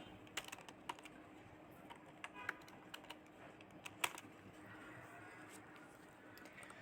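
Quiet keystrokes on a computer keyboard come in irregular bursts as Python code is typed, close and faint against a low background hum.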